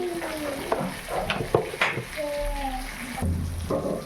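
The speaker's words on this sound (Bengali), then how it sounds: "এই মশলাটাকে আমি 10 মিনিট কষিয়ে নেব" A spice paste with Kashmiri red chilli powder and sugar sizzles while being stirred in a pan for a jackfruit and prawn curry, close frying hiss with scraping spoon strokes.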